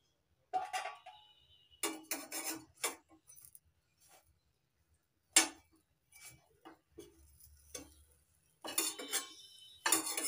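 A pan lid is lifted and eggplant slices frying without oil are turned over. Scattered metallic clinks, clatters and scrapes come close and fairly quiet, separated by brief silences.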